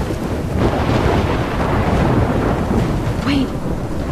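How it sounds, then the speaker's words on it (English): Thunderstorm in the video game Life Is Strange, a dense roar of heavy rain and wind with low rumbling thunder, loud and continuous. "I'm trapped in a storm?"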